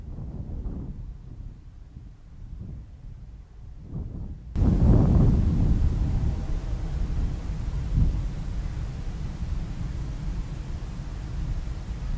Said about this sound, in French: Donc j'ai du vent fort, on me dit.